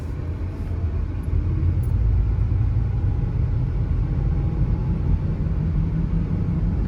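Steady road rumble inside a Toyota RAV4 on a night test drive, with low tire noise and a possible worn wheel bearing droning evenly throughout, no voices.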